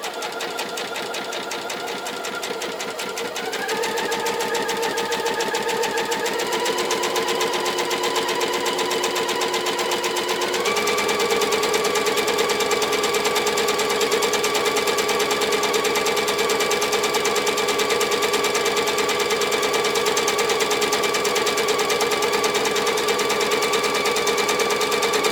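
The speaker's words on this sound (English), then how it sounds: "I'm going to sew down this other side, and that just gives it a crisper finish." Sewing machine stitching down the side of a fabric strip for a Christmas advent calendar, a steady close mechanical whir with fast rhythmic needle chatter that picks up speed and runs continuously with no talk.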